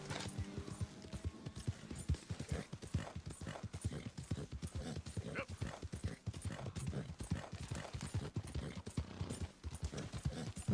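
A horse in Red Dead Redemption 2 clip-clops steadily throughout, its hoofbeats rapid and rhythmic at close range, with faint game ambience underneath.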